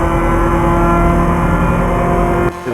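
A loud, steady engine roar with a rough, buzzing exhaust note from a car in Euro Truck Simulator 2, holding at high revs before dropping off abruptly near the end.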